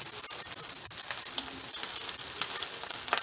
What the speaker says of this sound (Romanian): Și acum îl prăjești și ai pus ouă